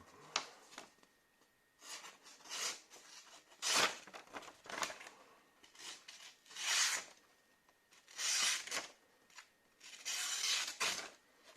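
A Benchmade Impel knife blade slices through paper in a series of separate dry, rasping swipes, each a short burst of crisp scraping with quiet gaps between.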